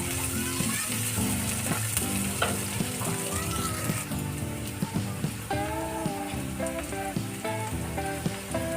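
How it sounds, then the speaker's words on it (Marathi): Chopped onion with a pinch of salt fries in a pan until brown, a steady close sizzle with occasional stirring scrapes, heard alone without talk. "कांदा ब्राऊन होईपर्यंत फ्राय करून घ्यायचा"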